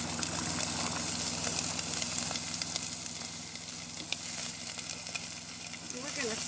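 Peppers and onions sautéing in melted tallow in a pan inside a truck kitchen, a steady soft sizzle with light crackles running throughout.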